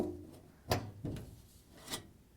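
Rear access panel of an LG washing machine being taken off after its screws are removed: a few soft scraping and knocking sounds from the panel, quiet and close, with no talk.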